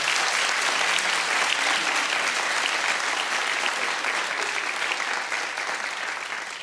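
A television talk show studio audience applauds in a thick, continuous burst that stays loud and even, then tapers slightly toward the end.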